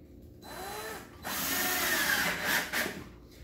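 A power drill drives a screw into a workpiece, a short whir followed by a louder sustained whine of a few seconds that rises in pitch and then stops, close and clear.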